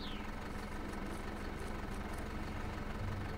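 A tractor engine harvesting a field in Farm Manager 2018, a steady mid-to-low idling drone with a faint rhythmic knock, continuous and moderately loud with no talking.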